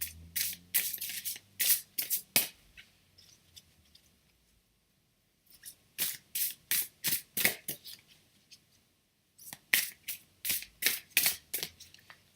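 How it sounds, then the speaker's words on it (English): Oracle cards being shuffled by hand, sounding as quick bursts of crisp papery riffling in three separate runs with short pauses between them, close and fairly quiet, with no talking. "I'll try and give it a good shuffle."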